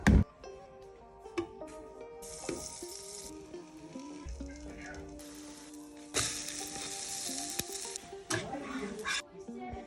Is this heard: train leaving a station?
no